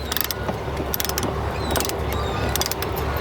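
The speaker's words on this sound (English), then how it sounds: "I'm just going to take this thing and keep ratcheting it until the hooks totally come out" A hand-cranked ratchet clicks repeatedly in uneven bursts as it is worked to release the hook locks on a trash truck door, with faint mechanical rattles between the clicks.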